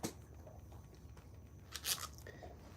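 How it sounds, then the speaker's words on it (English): Zeke the dog gnaws on a bone resting on a shoe, giving faint, close crunches and wet chewing sounds in irregular bursts, with one sharper crackle near the end. "chewing on a bone"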